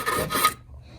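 A bristle brush scrubs metal threads with electronic cleaner in a short, close, raspy burst lasting about half a second, then stops.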